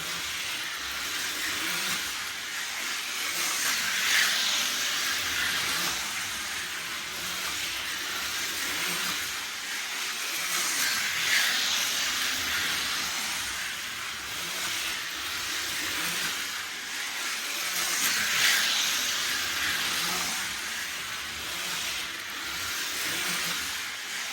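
A steady hissing rumble continues throughout, with rhythmic surges every few seconds like a steam train chuffing along.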